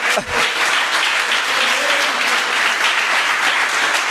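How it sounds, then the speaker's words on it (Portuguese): A church congregation applauds during a sermon, with loud, dense clapping from many hands filling the space continuously. "Você pode aplaudir a Jesus?"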